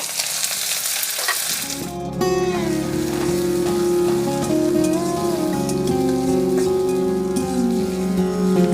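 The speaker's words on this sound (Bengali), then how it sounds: "ওই একই তেলের মধ্যে একটা তেজপাতা দিয়ে দেব আর হাফ চা চামচ কালো জিরা ফোড়ন দিয়ে দেবো একটা পেঁয়াজ কুচি দিয়ে দেব" Chopped onion, a bay leaf and black cumin seeds hit hot oil in a pan, bursting into a loud, steady sizzle that continues evenly to the end, with a few clinks of a utensil and no talking.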